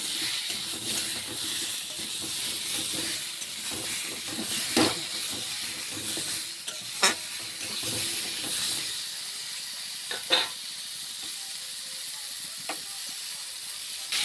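Food frying in a pan with salt and turmeric gives off a steady broadband hiss, with small crackles and pops scattered across it. The sound is close and even, and nobody speaks.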